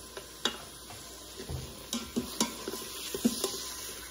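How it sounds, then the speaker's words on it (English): A spoon stirring chicken Florentine pasta in an Instant Pot, soft scraping and light clinks in an irregular rhythm over a faint simmer, close and quiet. "go ahead and keep stirring"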